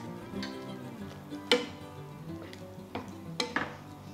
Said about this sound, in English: I'm gonna give that a nice mix.